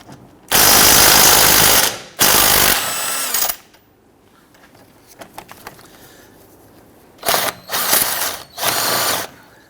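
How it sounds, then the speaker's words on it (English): A ratchet turns a 17mm socket to loosen a nut on a 2011-2015 Kia Sorento front control arm, sounding in loud, close bursts of rapid clicking separated by quieter pauses. "I'm going to use a 17mm socket to loosen and remove this nut."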